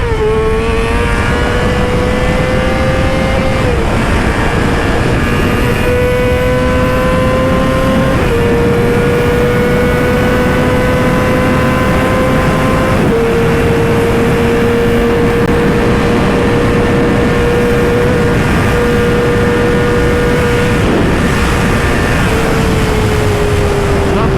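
A crashed Yamaha R6 motorcycle engine revving hard again and again up to the rev limiter, loud and close, each long screaming pull holding near the top before dropping.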